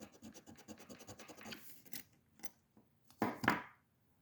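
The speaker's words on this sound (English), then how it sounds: "I will give it a little scratch just to see." Metal jewelry, likely plated brass, is scratched to test whether it is sterling: a quick series of close, faint rasping strokes, followed by a few louder scrapes.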